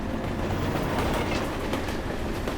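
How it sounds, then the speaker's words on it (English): A train passes on railway tracks, a steady loud rumble with rhythmic clickety-clack of wheels over rail joints, continuous and close, with no voices. "That's a train."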